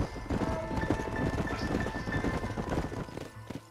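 Horse hooves clip-clopping at a steady trot on the ground in the Western video game Red Dead Redemption, close and rhythmic with a brief neigh partway through, continuing for several seconds.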